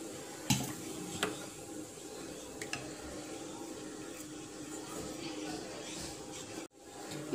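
A spoon stirs milk in a cooking pot, giving a faint, steady scraping swirl with a few light metallic taps against the pot, close by and alone.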